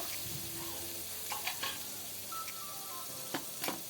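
Tomato paste going into a pan for a chana masala, a faint steady sizzle with a few light clinks and scrapes of a spoon against the pan.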